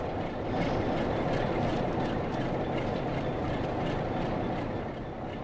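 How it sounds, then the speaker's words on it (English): A train rumbles past in Train Sim World 5 on the East Coast Main Line near a Class 66 freight locomotive, a loud sustained roar with rhythmic wheel clatter, no talk over it. "So that was our train."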